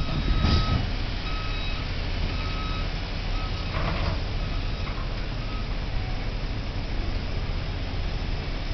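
A truck moving a trailer at a water main work site sounds repeated reversing beeps over a constant broadband rumble and hiss, with a brief clatter near the start.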